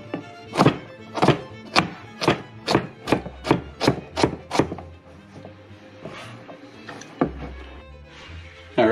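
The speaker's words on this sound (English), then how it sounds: "Alright, so the carrots are chopped." A knife chops through carrots on a board in a quick, even run of about a dozen sharp thunks, then a few scattered cuts and scraping.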